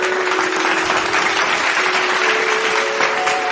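Audience applause welcoming a singer onto a devotional stage, a dense, even burst of clapping from a crowd, sustained and fairly loud with no voices.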